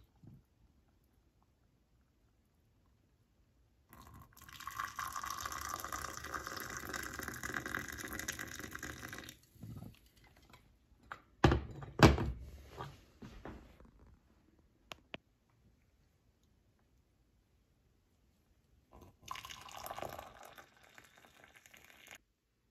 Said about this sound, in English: We're gonna pour it out, see how it goes.